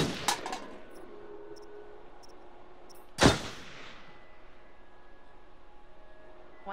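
A single sharp gunshot cracks out in Until Dawn as a pop can is shot, a loud close burst standing alone after a few fainter clicks and clanks, with a low game ambience underneath.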